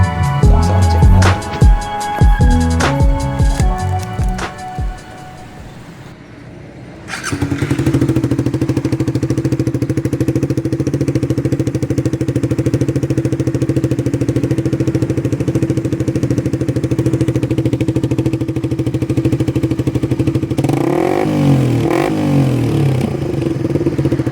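Clattering mechanical noise gives way to a Suzuki Raider Fi motorcycle engine starting and idling steadily, then a brief rev near the end.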